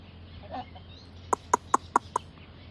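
Newly hatched chicks give five short, clear calls in quick succession, each a brief bright note close by, after a moment of quiet with faint background hum.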